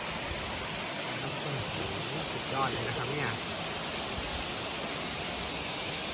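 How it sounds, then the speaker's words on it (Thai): Khlong Lan waterfall pours in a steady, broad rushing hiss that fills the whole stretch without letting up, while someone speaks briefly over it partway through. "อันนี้ก็เป็นน้ำตกอีกฝั่งหนึ่งนะครับ"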